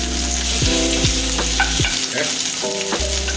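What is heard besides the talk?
crab cake sizzling in frying pan after flip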